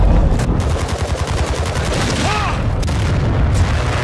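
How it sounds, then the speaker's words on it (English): Airstrike explosions and heavy gunfire fill a Call of Duty Modern Warfare 2 match, a loud, continuous barrage of booms and rattling shots with no break. "Friendly airstrike in the AO."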